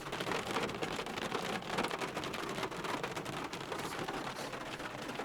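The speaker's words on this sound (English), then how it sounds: "It's raining." Steady rain drumming on parked cars on an early morning by a creek, a dense, constant patter of close drops with no pauses and no talking.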